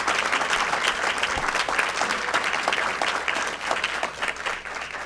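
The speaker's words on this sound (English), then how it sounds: "Please join me in giving them a round of applause for these incredible" An audience at a school board meeting breaks into loud, sustained applause for students, dense clapping throughout with faint crowd murmur underneath.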